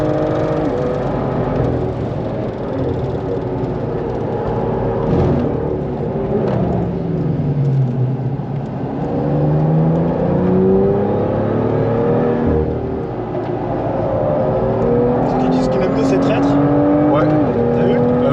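A small Alpine sports car on 285 tyres lapping a race track at a trackday in France, engine droning loudly and rising and falling in pitch through gear changes, with people talking inside the car over the engine.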